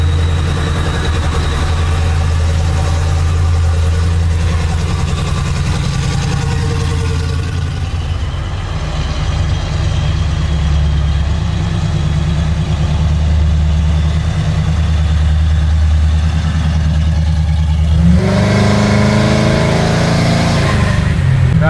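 A 650 HP procharged Chevy Chevelle SS restomod engine rumbles loudly at a steady, close idle, then the revs climb sharply near the end with a brief rise in pitch.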